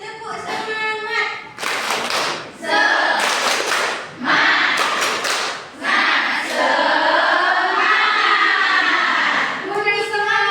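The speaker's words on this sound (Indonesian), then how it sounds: "Tepuk semangat." A classroom of children performs a rhythmic spirit clap in repeated bursts of patterned hand claps, loud and close, with children's voices chanting and calling out between and over the clapping.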